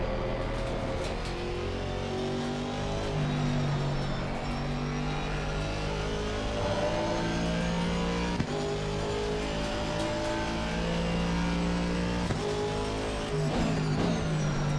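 Simulated Aston Martin V8 GT3 engine from Assetto Corsa Competizione at Suzuka, a continuous loud racing drone whose pitch climbs and falls through gear changes, with no talking over it.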